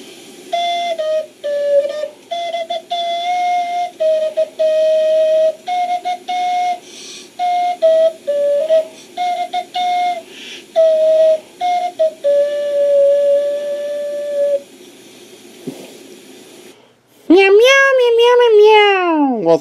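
An ocarina plays a simple tune of short whistling notes in a bouncy rhythm, close and clear, followed by a voice imitating a cat's meow at the end.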